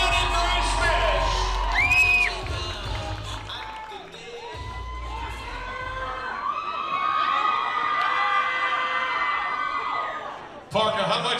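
Crowd at a carnival krewe event cheering, screaming and whooping, a dense, loud wall of shouting voices with higher children's and women's screams, a brief drop midway before swelling again and cutting off near the end.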